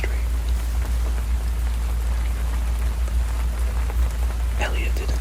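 Steady rain falls on a surface, a dense even hiss with scattered droplet ticks and a low constant rumble underneath, continuous and close.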